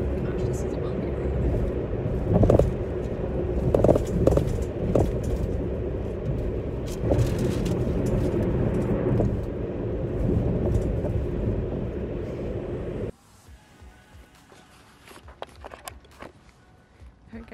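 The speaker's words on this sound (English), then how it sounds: "Gosh, this is a bumpy road." A car rumbling down a bumpy road, a loud low cabin drone with jolts and thumps from the uneven surface, speech over it, before the engine noise drops away and quieter handling sounds follow.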